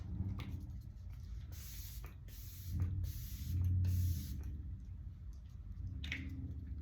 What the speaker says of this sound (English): I'm going to use the Professional Super Setter setting spray